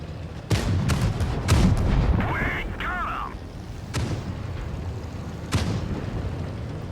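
Tank cannons boom in World of Tanks Blitz, several sharp heavy blasts spaced across the clip with a whistling shell sound in the middle, all loud and close.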